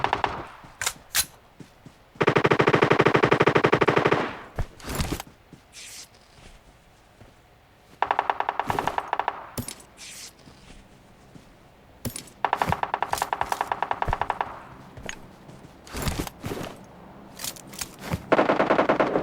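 Bursts of rapid automatic gunfire in PUBG Mobile on the Sanhok map, long sustained volleys alternating with sharp single and scattered shots, loud and close, no voices.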